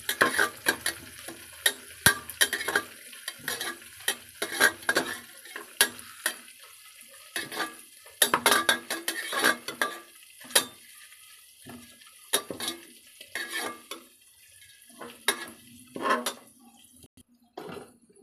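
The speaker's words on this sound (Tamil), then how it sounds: "ரெண்டு பட்டை பிரியாணி இலை ரெண்டு மூணு போட்டு கிளறி வேணும்" Cinnamon sticks and bay leaves are stirred in hot oil in a cooking pan, with repeated clinks and scrapes of a spoon against the metal over a light sizzle in short uneven bursts.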